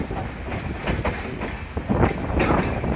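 Train carriages roll past at a railway workshop with loud, continuous rumbling and rhythmic clickety-clack wheel beats, close by and unbroken across the whole stretch.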